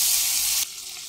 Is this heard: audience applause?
no